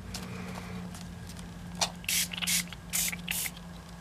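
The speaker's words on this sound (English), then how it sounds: "Try not to spray everything." Several short, sharp hisses of a spray can burst out in quick succession, close by, after a quiet stretch with a low steady hum underneath.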